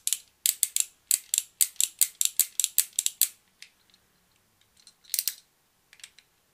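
A ratchet joint on a G1 Galvatron toy's arm being tightened, giving a rapid run of crisp, close plastic clicks, then a pause and a few sparser clicks.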